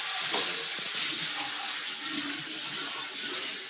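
Warm water running steadily from a kitchen tap while a vegan bread dough is prepared, a continuous close, fairly loud hiss and splash that holds unbroken throughout with no talk.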